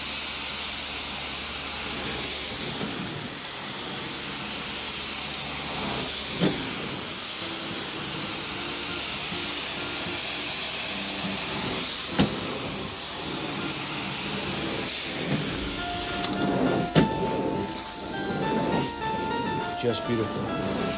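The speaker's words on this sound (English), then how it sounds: "Steaming it out now." A steam cleaner hisses steadily while treating a urine stain in a carpet, a continuous close broadband hiss with a few brief knocks and shifts, ending with some faint clattering.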